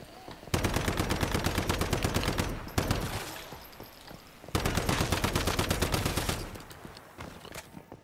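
Automatic gunfire in the video game Once Human: two long rapid-fire bursts separated by a short pause, loud and close, with faint trailing shots at the end.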